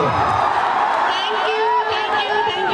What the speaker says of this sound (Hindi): रानी जी के लिए जोरदार ताली और हल्ला करके बजाओ पाओ